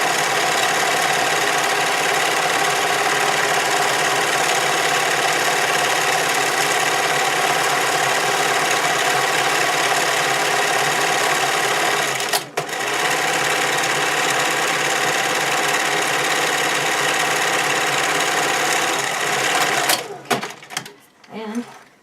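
A sewing machine stitches stretchy swimwear fabric in a long, steady whir, briefly pausing near the middle, then stopping toward the end with a few scattered clicks and handling noises.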